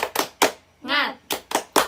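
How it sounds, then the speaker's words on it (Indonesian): Schoolchildren in a classroom clap a rhythmic spirit clap: three sharp claps, a short group shout, then three more claps, crisp and close. "Tepuk semangat."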